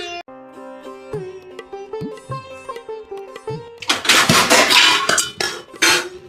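A kitchen sink piled full of dishes, with plates, pots and cutlery clinking and clattering: scattered knocks at first, then a dense, loud stretch of rattling metal and ceramic, close by and with no voices.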